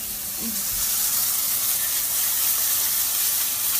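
Shishito peppers blister in a hot pan with a steady, loud broadband sizzle that carries on unbroken throughout, with a brief low clunk near the start.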